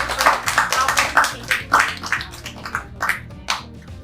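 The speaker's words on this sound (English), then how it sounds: "give yourself a round of applause" Small group clapping for themselves at the close of an English grammar discussion session, distinct individual claps in an uneven rhythm, close and moderately loud, fading toward the end.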